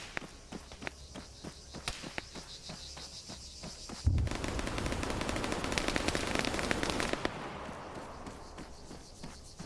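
Arma 3 combat: rapid bursts of gunfire, starting as spaced sharp cracks and then building into a dense, louder sustained volley of automatic fire that later thins out again, with no talking over it.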